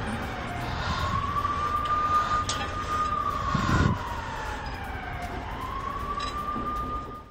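A wailing siren rises and falls in long sweeping tones over a steady background rumble, heard in war footage shortly before a bomb blast in Russia's Belgorod region.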